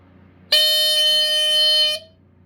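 A Montgomery Ward CD200A smoke alarm's loud, piercing electronic horn blares once for about a second and a half, starting and stopping abruptly against a quiet background.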